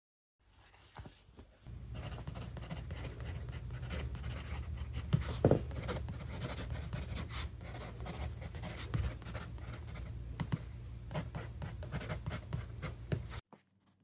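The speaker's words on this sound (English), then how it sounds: "I just wrote down the first words that came to my mind" A pen scratches words into a sketchbook in a long, continuous run of quick, close strokes, with small pauses between bursts and no talking.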